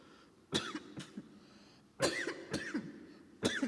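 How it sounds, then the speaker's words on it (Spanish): Several sharp coughs in quick bursts, close and fairly loud, separated by short pauses with a quiet room in between. "Perdón por mi tos."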